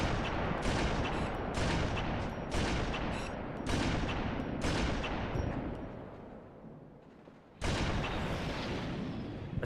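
Repeated bursts of gunfire aimed at an Elite in the video game Halo 2, loud and close, firing in a steady series of sustained volleys with short breaks, then one last burst after a brief pause.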